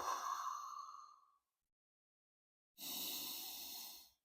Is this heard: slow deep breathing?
yes